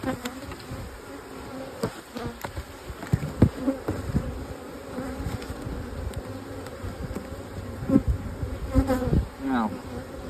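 A swarm of honey bees buzzes steadily and continuously close by, a dense insect drone with brief louder swells and a few thumps and rustles, with no talking.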